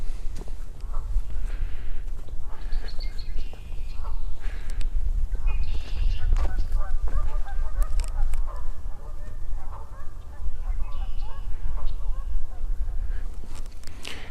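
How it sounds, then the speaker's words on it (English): Canada geese honk in scattered, moderately distant calls across a beaver pond, mixed with other birdsong over a steady outdoor background, while someone talks intermittently. "Two pair of Canada geese right over there."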